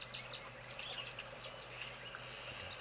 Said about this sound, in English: A couple of weavers in the background at the moment.